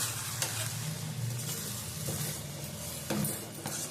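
Samba rava khichdi cooks in a pan with a steady, soft sizzle and bubbling. Occasional scraping strokes from stirring come through, with no voices.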